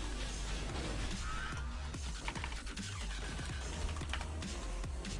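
Computer keyboard typing during a Clash Royale-style strategy game match, a fast irregular run of clicky keystrokes close up, mixed with busy game sound effects and music throughout.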